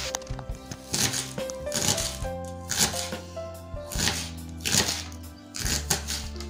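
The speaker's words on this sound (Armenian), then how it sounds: "Մեր սոխն էլ արդեն դեռիվ կիսեցինք," A knife chops onion on a cutting board for a salad, giving crisp rhythmic strokes in short bursts at an even pace, close up over faint background music.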